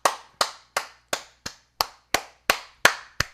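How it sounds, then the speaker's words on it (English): A single person claps hands ten times at an even, unhurried pace, each crisp slap close and distinct with quiet gaps between. "I gotta get some claps off"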